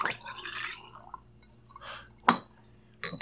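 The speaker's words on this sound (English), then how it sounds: "So I'm gonna put half the water in right now to about there." Water is poured into a jug while preparing mead, giving a soft splashing run of liquid followed by a couple of sharp glassy clinks, close up with no talking.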